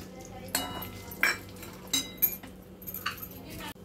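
Semolina being roasted in ghee in a pan: intermittent metal spoon clinks and scrapes against the pan, quiet and spaced apart, with no talking.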